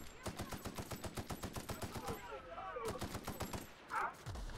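Rapid bursts of assault rifle fire in The Outer Worlds, a steady rhythmic string of close, loud shots with a brief pause near the end and a short yelp over it.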